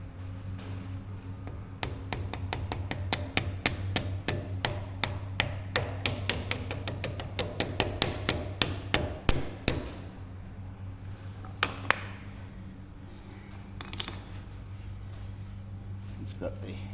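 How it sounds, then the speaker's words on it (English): Metal taps from a hammer driving an axle through the Renegade's undercarriage come in a quick rhythmic run of sharp blows, then a few scattered strikes over a steady low hum, with voices speaking briefly between hits. "I'll try and give this a little tap through."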